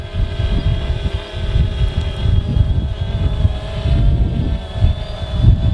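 A DJI Phantom 2 quadcopter drone flies outdoors, its steady whining motor hum heard close and continuous under gusting wind rumbling on the microphone.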